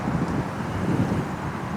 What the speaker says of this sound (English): It's moderately windy.